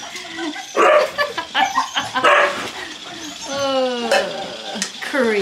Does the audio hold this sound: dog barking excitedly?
yes